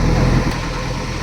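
A JCB backhoe loader engine runs at a steady idle, a close, loud low rumble with a faint rhythmic throb, heard alone for a moment.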